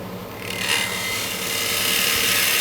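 A turning tool cuts into a thin-walled wooden bowl spinning on a lathe. It makes a continuous close rasping, scraping hiss that grows slightly louder as the cut goes on, with no one talking.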